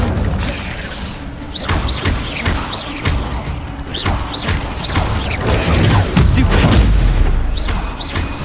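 Spell blasts and impacts in Hogwarts Legacy combat, a run of booming thuds and crashes over game sound, with bursts across the stretch and voices in the background.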